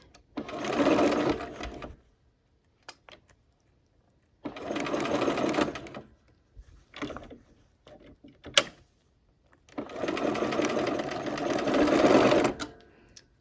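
Sewing machine stitching a quilt block, three loud close bursts of rapid whirring stitching separated by pauses with small clicks and handling sounds.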